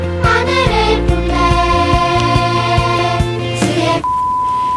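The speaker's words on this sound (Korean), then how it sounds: "찬양 속에서 삐 소리가 나는데" A worship song plays with piano chords and a sustained bass, then a sharp, steady electronic beep cuts in near the end, replacing a sung word.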